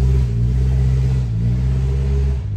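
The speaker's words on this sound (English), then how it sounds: "That car was struggling" A car engine strains and revs nearby, a loud sustained low rumble that holds steady with slight pitch shifts before easing off near the end.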